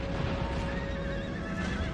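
Horses whinny and neigh in the Empire: Total War battle game, a drawn-out wavering call over a dense, rumbling wash of battlefield noise and faint hoofbeats, fairly loud and continuous.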